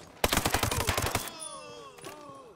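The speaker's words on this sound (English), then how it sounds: "I love the way this gun sounds with the suppressor, though." A rapid burst of about a dozen suppressed gunshots in the video game Ghost Recon Breakpoint, close and punchy, followed by ringing tonal echoes and a final muffled shot.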